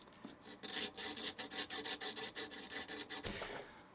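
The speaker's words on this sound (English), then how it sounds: "our needle plate has some needle strikes here as well, so we're going to sand that down a little bit" Close, quiet rasping strokes as a sewing machine needle plate on a stuck Janome is sanded to smooth needle strikes, a quick regular back-and-forth rhythm of about a dozen rubs.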